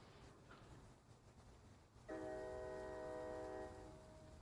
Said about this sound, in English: Watch our train come out of the hole.